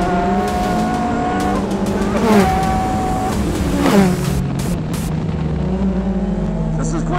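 A BAC Mono on slick tires with a sequential transmission accelerates flat out on a race track: a loud, close engine rises in pitch through several quick gear changes and then settles into a steady high drone.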